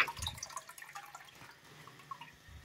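A recessed toilet cistern refills after a test flush, with faint, steady trickling and light dripping of water running at low level throughout, no voices.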